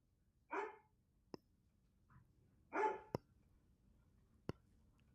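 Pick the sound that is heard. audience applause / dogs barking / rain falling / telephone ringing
dogs barking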